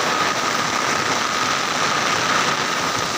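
Heavy rain pours steadily over flooded fields, a dense, even wash of hiss that stays loud and constant throughout with no voices.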